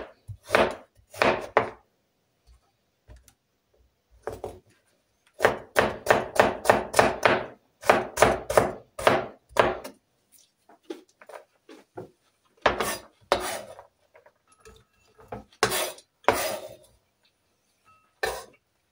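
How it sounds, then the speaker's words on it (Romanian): A knife chops carrot into rounds on a wooden board in close, sharp bursts of rapid knocks separated by pauses, loud and without talk. "La fel o să ne tăiem și morcovul, o să-l tăiem cu buleță."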